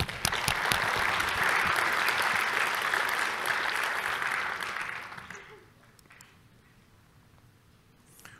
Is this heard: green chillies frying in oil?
no